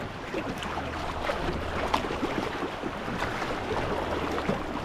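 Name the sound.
sea waves around a kayak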